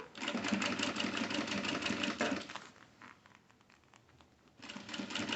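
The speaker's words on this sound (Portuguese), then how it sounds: "Vou então passar o pesponto aqui." A sewing machine topstitches a pocket flap, running in a steady fast whir for about two and a half seconds, pausing briefly, then starting up again, close and clear with no talk.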